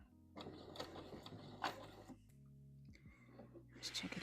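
Sewing machine stitching a wrap dress in short bursts of mechanical whirring, stopping and starting between passes, with a person talking quietly nearby.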